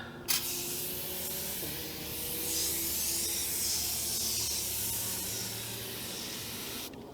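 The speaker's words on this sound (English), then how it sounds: "So we got our Superclean aerosol, which we're gonna use on the tires." Superclean aerosol cleaner sprays onto car tires in a long, steady hiss that runs for several seconds, close and continuous, with no talking over it.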